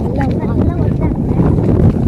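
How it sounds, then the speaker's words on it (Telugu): Heavy, cold wind rumbles and buffets close to the microphone throughout on a tractor ride along a road, while someone talks underneath. "చల్లటి గాలి వస్తుంది."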